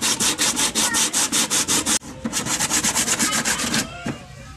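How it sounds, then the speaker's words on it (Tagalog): Steady back-and-forth rubbing of sandpaper against a brake, a rhythmic scratchy rasp repeated quickly, close and loud, slowing near the end. "Kukuha tayo ngayon ng liha. Ayan, kuskusin lang o natin to dito."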